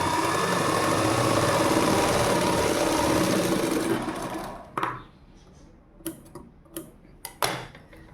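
Sewing machine running steadily while stitching a readymade skirt with a drawstring waistband, a dense continuous whir for about four seconds, then it stops and only scattered soft clicks and taps of handling follow.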